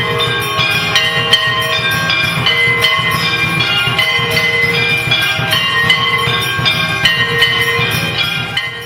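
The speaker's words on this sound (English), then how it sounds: "the arti going on, with the traditional bells and gongs that are played at this time in so many temples" Traditional temple bells and gongs ring during arti in a Vraja temple, with dense, continuous metallic clanging and rhythmic strikes for nearly nine seconds, loud and close, with no voices.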